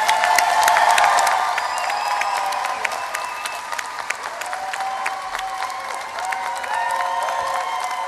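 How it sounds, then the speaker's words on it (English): An audience applauds and cheers Dana Scallon, a Christian family and pro-life spokesperson, at a World Youth Day panel in Madrid; dense, steady clapping sits close, with a few whoops rising from the crowd and a faint murmur underneath. "a warm round of applause for Dana Scallon."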